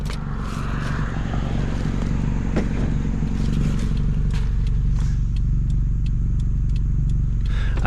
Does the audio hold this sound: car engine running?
yes